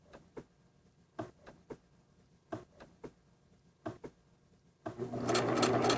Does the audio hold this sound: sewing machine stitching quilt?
yes